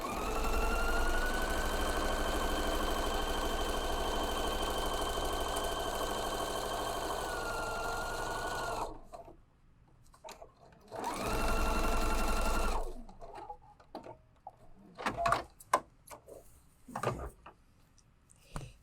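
Sewing machine stitching two pieces of fabric together, a loud steady close whir for about nine seconds, then a brief second burst after a pause, followed by quieter handling noises.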